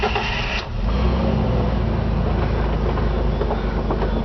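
A 2006 Jeep Wrangler with a 6-speed manual transmission and 55,000 miles starts up, the engine catching after a short crank and settling into a steady, loud idle, with no voices.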